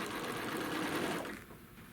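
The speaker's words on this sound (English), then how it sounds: "Alright, so we're going to sew across." Sewing machine stitching across a crochet bag panel, a close steady whir that runs for about a second and a half, then stops.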